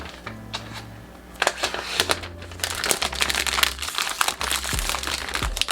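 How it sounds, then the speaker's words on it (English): Plastic wrap is ripped and crinkled off a new budget iPad box in a close, continuous run of crackling and tearing with sharp snaps, with no voices. "Come on, rip the plastic."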